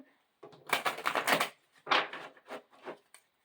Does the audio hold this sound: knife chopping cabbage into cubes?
no